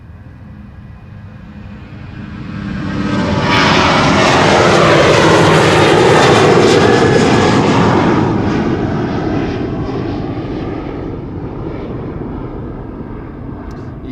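A KLM Boeing 777-300 jet airliner takes off from runway 36L, the Polderbaan, at Amsterdam Schiphol. Its engine roar swells to a loud, broad peak partway through, then slowly recedes into the distance.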